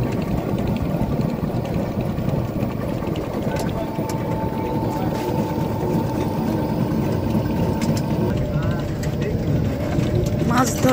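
Fishing trawler engines run near a large sandbank at a seaside beach by the Sundarbans, a steady low drone with a faint chugging idle throughout, while voices talk over it.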